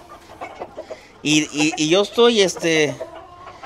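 Quality fighting roosters at a breeding ranch give a loud, drawn-out series of harmonic calls close by, after a brief stretch of quiet, while someone speaks Spanish around them.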